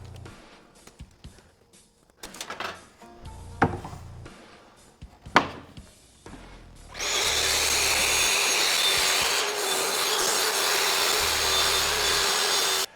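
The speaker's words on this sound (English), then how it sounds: "I'm going to grab my track saw and cut off this piece" A track saw rips through plywood in one loud, steady whining cut lasting several seconds, preceded by scattered knocks and handling clatter, with no voices.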